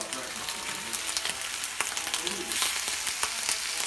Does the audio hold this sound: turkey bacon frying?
yes